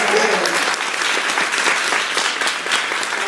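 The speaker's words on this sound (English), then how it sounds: "If I get a hand clap for that." An audience at a launch event breaks into sustained applause, a dense, even patter of many hands clapping close and loud, with faint voices underneath.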